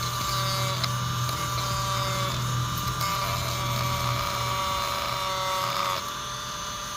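A Dremel rotary tool grinding off small white plastic nubs on a Ford Racing adjustable clutch cable for a 2004 Mustang Mach 1, a steady high-pitched whine with buzzing grind, close and loud, easing slightly at the end.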